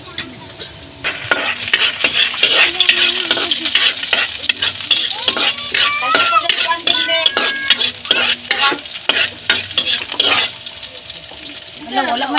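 Vegetables for lumpia hiss and crackle in hot oil in a pan, a loud, close, steady sizzle broken by repeated clatters of a utensil stirring and scraping the pan.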